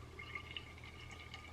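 Organic milk pours steadily into a saved bottle, a soft, continuous trickle and fill with faint higher splashy tones, close and fairly quiet with no talking.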